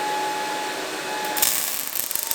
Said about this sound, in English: And welding like crap again.